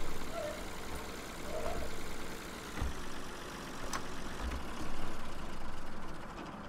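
A tractor engine in Farming Simulator 2013 idles with a steady low rumble that swells and eases slightly, carrying on alone at moderate level.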